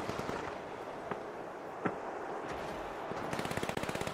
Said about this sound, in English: There's two of them shooting at me.